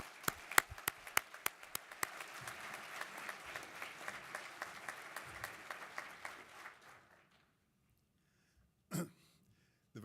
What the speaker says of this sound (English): one more round of applause for the first place winner